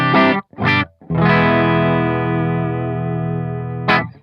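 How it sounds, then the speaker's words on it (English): A clean-tone electric guitar played through a pedalboard with delay and reverb pedals, loud and close: a few short plucked notes, then a long sustained chord ringing out with a light shimmer before a final strum. "This is the clean tone."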